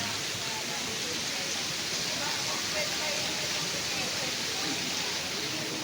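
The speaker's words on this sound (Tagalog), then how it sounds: "Meron ditong magandang liguan na ilog." A river flows past a camping site, giving a steady broadband rush of water that stays loud and even throughout, with no clear voices on top.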